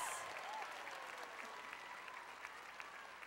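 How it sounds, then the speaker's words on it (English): An audience at a Miss America preliminary pageant night applauds in a steady wash of clapping that fades gradually, heard from a distance with no voices over it. "Everyone claps."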